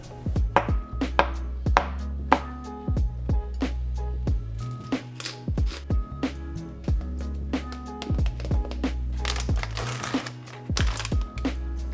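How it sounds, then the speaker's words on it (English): A knife chopping avocado, red onions and tomatoes on a cutting board, with irregular sharp close taps in quick clusters and short pauses, over a low steady background hum. "So I cut half of an avocado and some red onions, and then I diced up some tomatoes"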